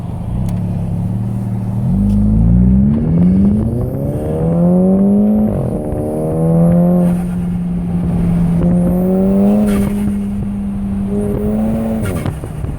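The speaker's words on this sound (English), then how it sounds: "I just want you to hear that turbo" A turbocharged Volkswagen GTI MkV engine with an APR Stage KO4 turbo revs up through several rising pulls, loud and close, each climb cut off before it builds again.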